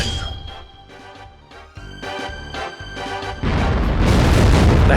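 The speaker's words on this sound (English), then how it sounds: "That's sad cannon. Sad cannon noises." A video game cannon firing, booming blasts with metallic clangs and dings, loud and close, ending in a sustained roaring burst.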